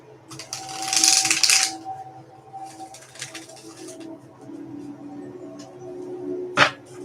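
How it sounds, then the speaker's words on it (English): A quick burst of crisp riffling as tarot cards are shuffled, followed by soft patting, quiet handling and a sharp tap near the end. "Let me shuffle that again."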